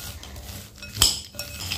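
A metal spoon stirring peanuts in a bowl while mixing a coating for crunchy egg-coated peanuts, with soft scraping and a few close clinks against the bowl and no talking.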